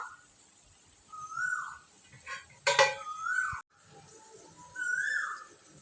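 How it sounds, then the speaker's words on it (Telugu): A metal lid set down on a cooking pot in a home kitchen while gongura rice is prepared, one sharp clatter standing out among soft clinks of utensils. "దీని మీద అయితే మూత కూడా వేసేస్తా"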